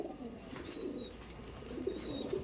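Madrasi pigeons in a loft give soft, low coos, three brief murmurs spread across a quiet, faintly noisy background.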